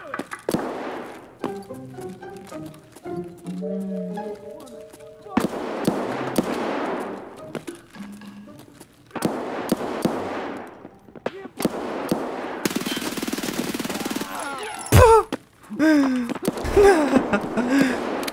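Gunfire in the video game Escape from Tarkov, including a Vector 9mm, comes in separate bursts of rapid shots with sharp single cracks between them, loud and close, with someone talking over parts of it.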